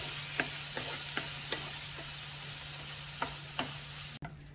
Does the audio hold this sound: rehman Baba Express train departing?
no